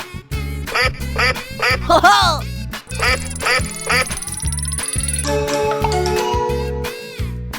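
Cartoon-style duck quacks repeat in a bouncy rhythm over a steady beat, with other playful synthetic tones and sweeps mixed in, loud and close.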